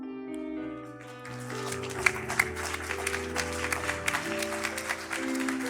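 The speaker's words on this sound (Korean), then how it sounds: "네 분 모두 뒤를 돌으셔서 차렷 인사할 때 큰 박수로 다시 축하해 주시기 바랍니다" A church congregation applauds steadily during a Sunday worship service at a Korean Baptist church, sustained clapping from a crowd blended with lingering organ or keyboard tones underneath.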